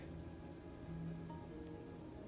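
Steady rain falls in the video game Master Detective Archives: Rain Code, a soft continuous hiss of drops with a faint low hum underneath and no voices.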